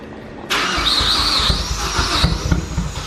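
The Speed6 engine starts for the first time: a sudden loud catch, then a rough, squealing idle that rises and falls, running close by with no voices over it.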